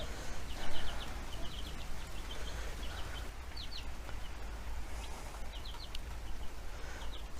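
Chickens sheltering in a stable on a windy, rainy day give short, repeated soft clucks and chirps in scattered bursts over a constant background hiss.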